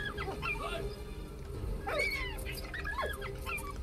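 A dog in the video game Valiant Hearts: The Great War gives a few short, rising yelps and whines over a low, constant game background.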